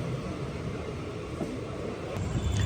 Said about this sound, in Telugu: ఇదిగో పక్క ట్రాక్లో ట్రైన్.